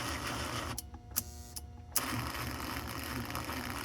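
A 1955-57 Union Pacific American Flyer GP7 toy locomotive motor, still uncleaned and unlubricated, runs with a close, gritty mechanical whir and gear chatter, broken by a short stop-start stretch with a few clicks.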